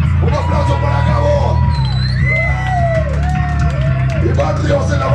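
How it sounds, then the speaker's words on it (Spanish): A concert crowd whoops, yells and cheers loudly and continuously for the bassist while the band's music plays underneath, with shouted voices rising over the din. "Un aplauso para Gabo."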